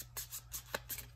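Maquis board-game mission cards shuffled by hand, a quiet run of soft papery riffling bursts in an uneven rhythm, with no talking.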